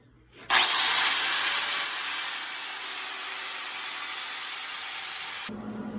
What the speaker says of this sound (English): We will now grind it on our lines